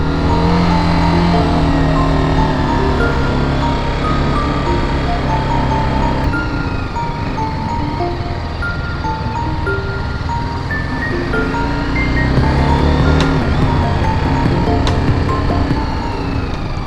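A BMW 310 RR motorcycle engine drones loudly and steadily under throttle on a race track, its pitch rising and falling with slight revs through the whole passage.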